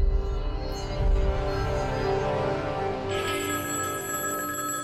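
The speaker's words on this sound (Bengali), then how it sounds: "ফোনটা ধরবো নাকি ধরবো না?" Cartoon telephone ringing continuously in a steady bright electronic trill, moderately loud and alone for nearly five seconds.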